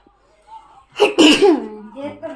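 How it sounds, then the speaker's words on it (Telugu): A single sharp sneeze bursts out close by from someone with a cold. It is followed by voiced vocal sounds, with quieter murmuring before it. "తుమ్ములు"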